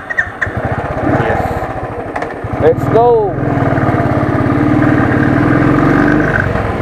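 Royal Enfield Thunderbird motorcycle engine running steadily at a loud, close idle-to-rev thump, with a brief rise in pitch midway and a person speaking briefly over it.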